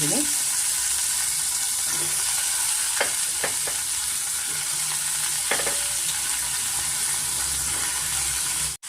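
Mixed vegetables such as capsicum, beans, carrot, knol-khol and tomato fry in hot oil for a hotel-style vegetable sagu, with a steady sizzle and several sharp scraping stirs of a spoon against the pan.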